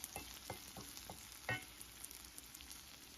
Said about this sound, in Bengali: আর এই জায়গায় করলা ভাজি করতে আছে।